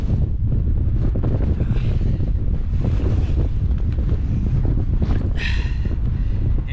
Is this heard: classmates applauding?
no